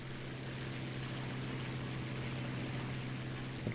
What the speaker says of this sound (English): now we're applying that wartime emergency power, coursing the horsepowers into the engine and out the other side